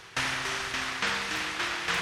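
Synthesized rain-on-roof noise made in Massive X, pattering in repeated pulsing bursts with sharp attacks and faint low tones underneath.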